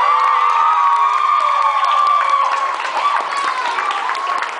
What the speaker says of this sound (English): And one bigger round of applause from all our students visiting from Brazil